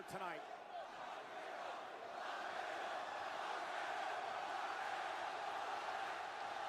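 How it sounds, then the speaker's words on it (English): A wrestling arena crowd roars in a sustained frenzy, a dense, steady wall of cheering from a large audience heard from a distance, with a sharp bang at the very start. "Look at this place. This crowd into a frenzy."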